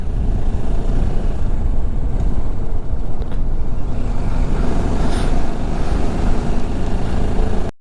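Loud, steady road rumble from inside or beside a car driving along a hill road, continuous engine and tyre noise with no talk.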